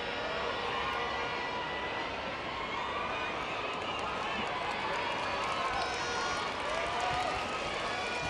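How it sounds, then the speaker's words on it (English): Football stadium crowd at a Shopee Cup match between Buriram United and Công An Hà Nội gives steady, sympathetic applause after a red card, a dense continuous wash of clapping and crowd noise under a commentator's voice. "Well, the sympathetic applause"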